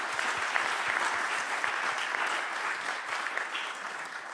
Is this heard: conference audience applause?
yes